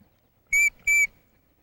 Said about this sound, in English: 2 toots on the whistle will make her walk up.